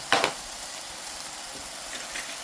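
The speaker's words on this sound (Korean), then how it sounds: "타지 않게 볶아주세요" Bacon kimchi fried rice stir-frying in a pan, a steady hiss of sizzling with one sharp burst of stirring near the start and faint scraping later, close and fairly loud.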